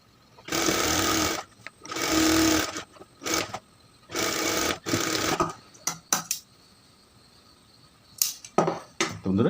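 Sewing machine stitching the three sides of a ticket pocket on trousers, heard in several loud bursts of rapid whirring stitching separated by pauses and small handling clicks.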